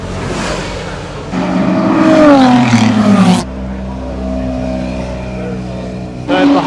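A track-only Ferrari 458 Challenge race car in the pit lane at a track day, its engine droning loud and close with rising and falling revs, then settling into a steadier note before a sharp burst at the end.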